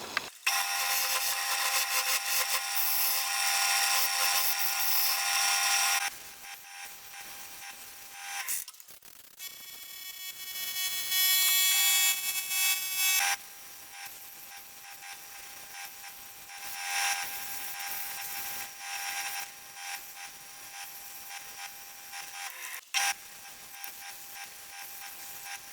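Abrasive sanding of a wooden Halloween pumpkin hollow form spinning on a lathe, a bright hissing scratch in long bursts with brief pauses between passes, moderately loud and close, without any talk.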